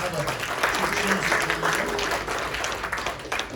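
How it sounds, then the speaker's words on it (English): Audience applause for two participants at a live session, a dense steady patter of clapping filling the room for several seconds with voices murmuring underneath. "So round of applause for our two participants here."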